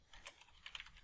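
Password typed on a computer keyboard, a short burst of several faint, quick key clicks, close but quiet.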